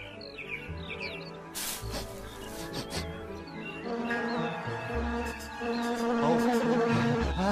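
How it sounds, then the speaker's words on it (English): A buzzing bee hums near and far, its drone rising and falling under a busy, cluttered background of other sounds. "Yes, nice bee."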